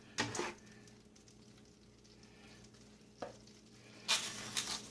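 Collard greens are stirred in a pot, with a faint simmer and sizzle underneath and a few sharp scraping stirs at the start, middle and end.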